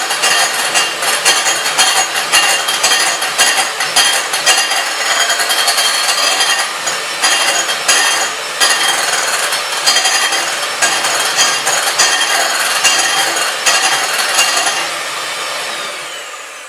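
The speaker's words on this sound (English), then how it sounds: "Whisk that in." Sugar whisked into meringue for baked apples topping, a loud, continuous scraping and rattling of the whisk against the bowl, fast and steady throughout before easing off at the end.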